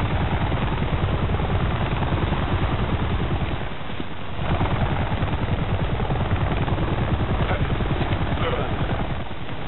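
Rapid, heavy rotor chopping of a helicopter drones continuously and loudly, close by, with a brief dip midway before the thumping resumes.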